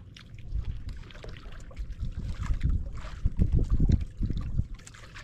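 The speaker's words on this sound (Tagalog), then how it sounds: "Hangin yun." Gusty wind blows at night on the water, rumbling low and buffeting the microphone in uneven surges that grow stronger toward the middle, with no voices.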